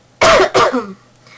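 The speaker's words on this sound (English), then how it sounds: "Coughing again." Two loud, close coughs in quick succession, the second trailing off into a brief throaty rasp.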